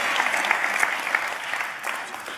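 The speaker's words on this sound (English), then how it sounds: "give Ava a round of applause, will you?" Audience applause for a girl named Ava at a church sermon, a steady dense patter of many hands clapping that holds for a couple of seconds before thinning out slightly.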